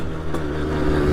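A Sherco Evo 4.0 motorcycle engine revving hard during a wheelie, a brief, loud, buzzing drone that holds steady and rises slightly at the end, close by with no talk.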